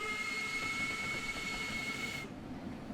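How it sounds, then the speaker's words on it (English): Steam locomotive whistle from the Spirit of Steam route in Train Sim World 2, a steady high-pitched tone held for about two seconds and then cut off abruptly, over a continuous hiss and low rumble. "The whistle changing tone from the distance to close up."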